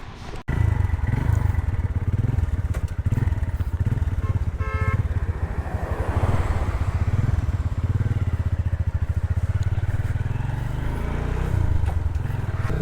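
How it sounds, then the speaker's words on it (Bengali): A motorcycle engine runs steadily with a low, pulsing rumble close by. It holds an even drone throughout, with a brief clatter near the start. "এই যে আমার বাইক রাখা আছে এই পাশে, বাইক রাখা।"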